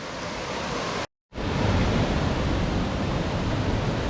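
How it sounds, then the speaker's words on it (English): The San Cristobal and El Chiflon waterfalls roar as a dense, steady wash of falling water, loud and close, with a brief dropout of sound early on before it returns at full strength. "Waterfalls for days. For days."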